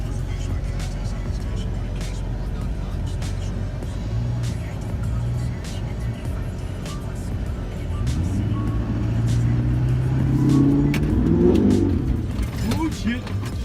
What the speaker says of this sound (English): We're about to fucking light these tires up